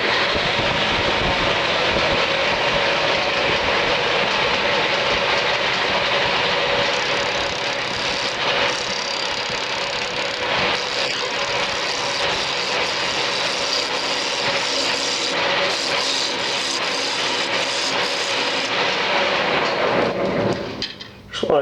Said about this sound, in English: I'm going to go at this with my roughing gouge.